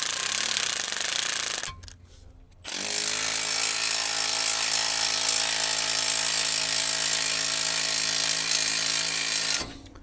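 AGM scissor jack driven by a power tool to raise a Kawasaki H2 motorcycle, a loud continuous rattling drone that cuts out briefly, then resumes steadily before stopping, close up with no speech.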